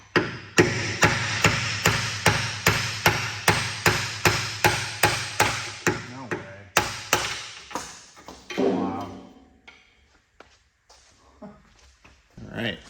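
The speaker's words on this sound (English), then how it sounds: "so we'll see if I can punch it out" Steady, repeated hammer blows ring out as an old polyurethane subframe bushing with a steel insert is punched out of a Nissan 370Z subframe, about a dozen sharp metallic strikes in rhythm before they slow, with a brief scrape near the end.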